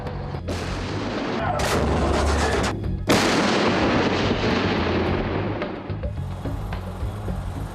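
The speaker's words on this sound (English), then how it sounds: "It is capable of firing a burst rate of 3 rounds in 20 seconds." Primus self-propelled howitzer firing artillery rounds, heavy booming blasts with long rumbling echoes that swell and overlap across the stretch, loud and close, with no talk.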